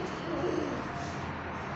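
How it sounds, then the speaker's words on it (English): A pigeon coos outside an apartment in Mott Haven, a soft brief coo rising from a steady hiss of outdoor background noise, fairly faint. "That's another bird."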